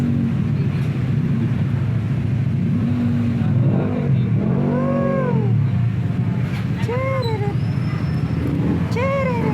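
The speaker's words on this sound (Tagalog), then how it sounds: "Umpisa naman ng traffic." Busy road traffic with cars and motorbikes passing close by, a constant rumbling wash with several rising and falling horn-like whines scattered through.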